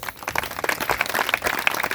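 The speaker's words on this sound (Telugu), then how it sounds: "బిగ్గరగా చప్పట్లు కొట్టండి ఒకసారి" A church congregation claps loudly in a hall, a busy, uneven patter of many hands close by that keeps going for the whole moment with no voice over it.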